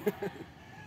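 A couple of short, close clucks from a chicken, then quiet background noise.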